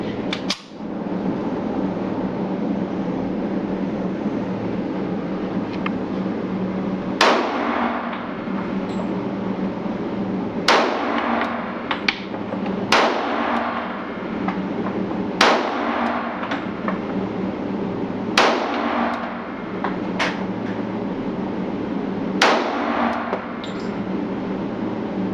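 Shots from a Springfield 1911 Loaded Operator pistol on a range: about seven sharp reports spaced a few seconds apart, each a crisp crack with a quick fade, over a continuous loud wash of outdoor noise.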